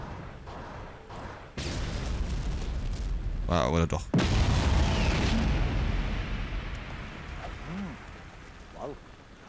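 A bomb blast in the video game Giants: Citizen Kabuto blows open a door, a sudden loud boom with a long rumbling tail, followed by someone speaking briefly.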